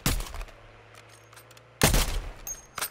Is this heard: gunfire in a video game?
yes